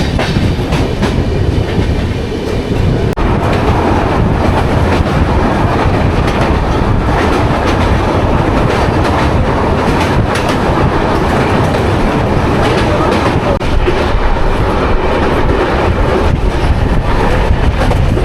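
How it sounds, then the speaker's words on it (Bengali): Kanchankanya Express passenger train running on the rails toward New Mal Junction, a steady close rumble of wheels and carriages with rhythmic clickety-clack filling the whole stretch, no voices. "আর দেখতে দেখতেই আমাদের ট্রেন প্রায় পৌঁছে গেছে নিউমাল জাংশন"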